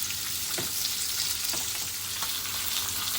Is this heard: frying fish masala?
yes